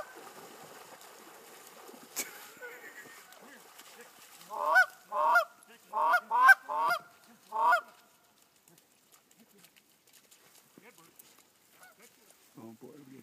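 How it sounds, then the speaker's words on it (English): A handful of geese honk in a quick series of loud, nasal calls, nearby, after a quiet stretch, then the scene falls calm again. "Oh boy, we got geese coming."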